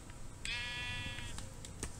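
Brown and white sheep in the Minecraft video game give a single clear, high wavering bleat at close range, surrounded by faint game ambience.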